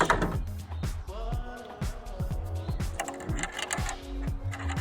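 Zip ties are ratcheted tight to secure an auxiliary fan during an install, producing rapid, close, steady runs of small plastic clicks over nearly five seconds with a faint tonal hum beneath.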